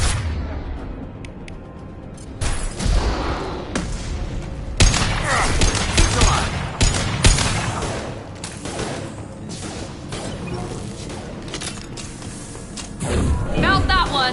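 Bursts of gunfire and heavy booming impacts from Mass Effect 2 combat, loud and dense, layered with game music and effects and broken by sharp blasts across the stretch.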